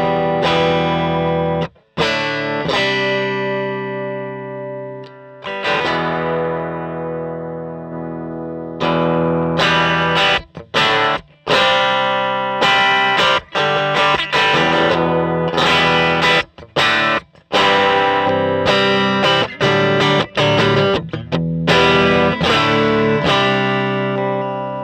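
An electric guitar through a 1977 Fender Bassman 50 amp with no reverb plays sustained overdriven chords, then a long run of choppy rhythmic strums and stabs with short gaps between them, loud and dry.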